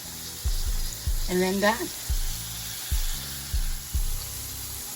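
Shrimp fry in a pan with a close, steady sizzle, broken by a string of short clicks and taps, while a voice speaks briefly over it.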